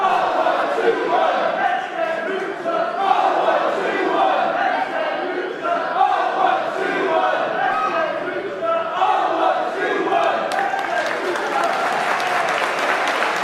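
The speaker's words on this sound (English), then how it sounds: "A split crowd, as you can imagine, supportive of both individuals in this contest" A large wrestling crowd cheers, claps and chants for both competitors in a match, a dense, loud, sustained roar with applause that swells steadily and carries on without a break.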